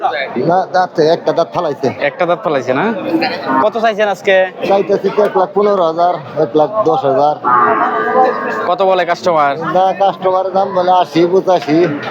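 Cattle at a rural livestock market where bulls are sold moo under near-constant close conversation, the lowing partly buried by voices.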